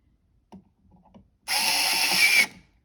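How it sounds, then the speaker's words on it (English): Qybeede cordless electric screwdriver unscrewing a screw, a few quiet handling clicks followed by a loud, close, steady motor whir lasting about a second. "let's go ahead and unscrew this with this screwdriver."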